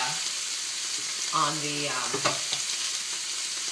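A ribeye steak fries in browned butter in a pan, giving a constant close, loud sizzling hiss with a couple of brief sharper spatters partway through.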